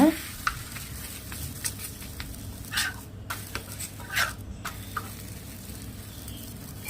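Chapati cooking on a hot stone griddle gives a faint, steady sizzle with scattered soft clicks and a few scraping touches of a utensil, no talking.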